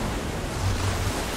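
Water floods in with a steady, dense rushing wash in Minecraft Story Mode, a continuous surf-like roar with no talk over it.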